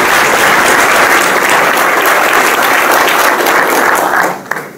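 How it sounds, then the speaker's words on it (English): Loud, dense audience applause at an ACLU of Northern California Bill of Rights Day event, sustained clapping close up that fades out in the final moment. "So if you guys can give them a round of applause."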